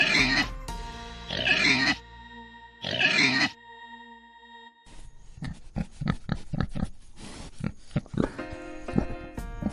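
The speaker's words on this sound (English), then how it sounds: "Pigs say, oink oink." Pigs grunting and oinking on a farm in short, rough bursts, first a few separate loud grunts and then a rapid run of close, choppy snorts and squeals.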